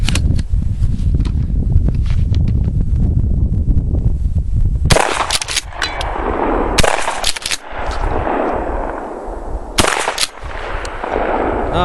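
Mossberg 590 shotgun with a Blackhawk stock fires Remington 3-inch and Rio double-aught buckshot 2 3/4 shells, loud close blasts spaced a few seconds apart, each followed by a ringing echo and the clatter of pump action.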